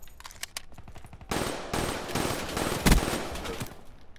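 Automatic gunfire in the shooter Call of Duty: Black Ops III: a few quick shots, then sustained rapid bursts with a heavier blast midway, loud and close, with no talk.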